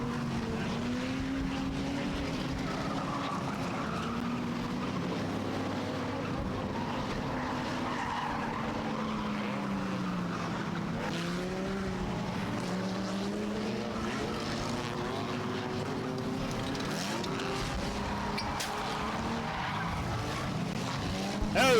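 Race car spinning out on the front straightaway of Star Speedway during a short-track race, a loud continuous engine drone with tire squeal sweeping up and down over roughly twenty seconds, crowd and track noise underneath.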